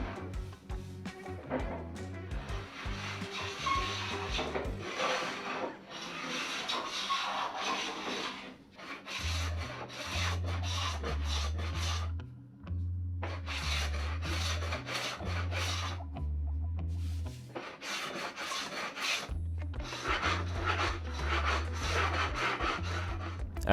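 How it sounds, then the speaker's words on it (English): Rhythmic scraping strokes of a hand plane smoothing the seams of a hardwood desk top, repeated passes in bursts with short pauses, close and fairly quiet. "hit the seams with the hand plane to smooth any little unevenness"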